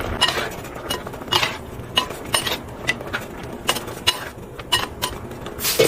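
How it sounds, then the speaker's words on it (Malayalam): Raw banana curry stirred in a covered pot, with a spoon clinking and scraping against the metal in quick, irregular bursts, close and moderately loud over a soft bubbling bed. "ഇടയ്ക്കൊന്ന് നമുക്കൊന്ന് ഇളക്കി കൊടുക്കാം കേട്ടോ"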